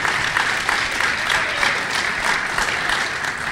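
A hacking-conference audience claps in a sustained, dense round of applause that fills the room evenly from start to finish.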